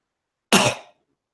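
A single short, harsh cough from a player during a tabletop role-playing session, close and clear, lasting about half a second against silence.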